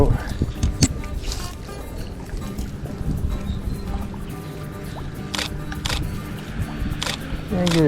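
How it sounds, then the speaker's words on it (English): A big fishing boat passes on the water, a rumbling wash of engine and water noise under a constant background, with a few sharp camera shutter clicks from a Nikon D300s, near and fairly loud. "Here comes the boat."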